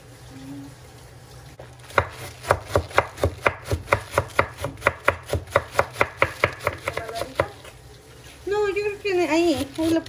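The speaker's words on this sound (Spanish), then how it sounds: "Y ahorita ya nos vamos a picar el repollo." Knife chopping cabbage on a cutting board while preparing pozole: a steady run of about twenty crisp, close chops in quick rhythm, then a brief burst of voices at the end.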